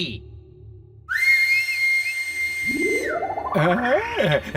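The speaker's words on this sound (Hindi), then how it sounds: "ऐसे बजती है सीटी" A whistle is blown in an animated Hindi children's story, one loud, steady shrill tone held for about two seconds, followed by a voice speaking.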